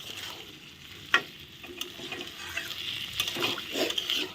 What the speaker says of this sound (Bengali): এখন কষানো হোক